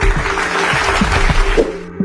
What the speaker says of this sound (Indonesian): Mari beri tepuk tangan semuanya.